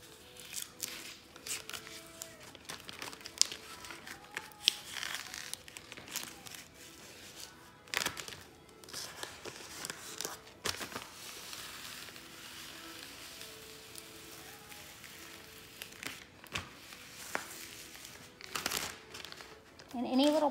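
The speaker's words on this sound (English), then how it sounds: "Remove our transfer paper." Transfer paper is peeled off a rustic painted sign, giving close, dry crinkling, rustling and soft tearing in short irregular bursts over a quiet background for about twenty seconds.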